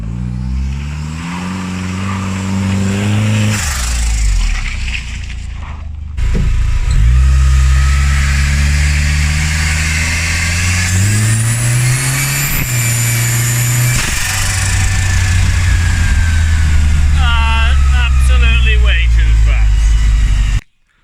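Saab 2.3 turbo engine fitted in a camper, revving up and dropping back to idle in repeated sweeps, loud and close, with radio or voice sounds mixed in.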